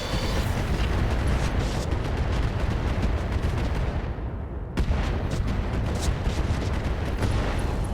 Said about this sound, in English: I think we're just going to fire the improved MRMs here.